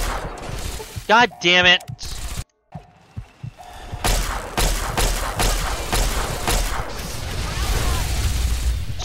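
Gunfire from the video game Fallout 3, played with the Broken Steel expansion, comes as a dense run of loud, sharp shots and thuds over several seconds, with a voice shouting and swearing over the fighting.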